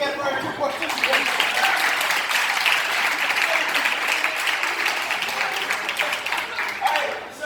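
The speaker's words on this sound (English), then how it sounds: "Can we get a round of applause again for our 2 participants?" An audience gives a round of applause for two participants at an event, steady and full clapping throughout with a crowd murmur underneath.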